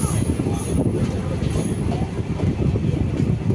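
The Intercity Express 15603 between Guwahati and Ledo rumbles along the rails with a dense, continuous low roar and rattle, heard close from inside the moving train.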